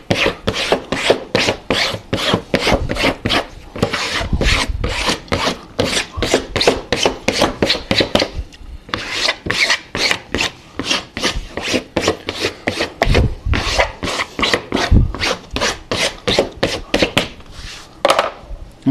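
A hardcover book is rubbed down firmly during bookbinding in a home shop, giving close, loud, steady back-and-forth scraping strokes that pause briefly partway through and then resume.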